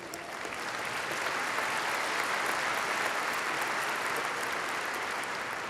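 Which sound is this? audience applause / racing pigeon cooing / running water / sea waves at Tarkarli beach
audience applause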